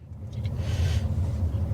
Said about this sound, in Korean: 저희가 이제 주행을 시작을 했는데요